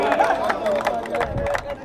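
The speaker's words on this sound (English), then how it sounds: "Look at the cheer." A crowd at a cricket championship award ceremony cheers and chatters, a dense babble of voices with scattered shouts throughout, fairly loud and close.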